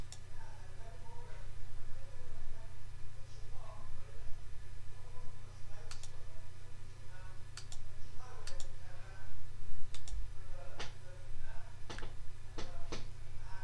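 Sharp mouse clicks come singly and in quick pairs while shapes are filled with color in EazyDraw drawing software, set over a steady low electrical hum with soft speech underneath.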